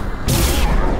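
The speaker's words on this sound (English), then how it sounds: "Quite the explosion" An overload power explosion in the video game Mass Effect 2, a loud sudden burst with a bright crackling blast lasting under half a second over the game's low rumble.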